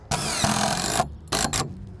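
Stainless steel 3-inch screws driven into a cedar fence picket by a power driver: one long whirring burst of about a second, then two short close bursts, loud and near with no talk.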